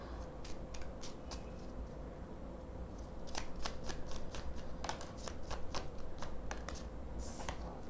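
A mini animal oracle card deck being shuffled by hand, a run of quick riffling bursts that grow denser and louder halfway through, close up over a low steady background hum.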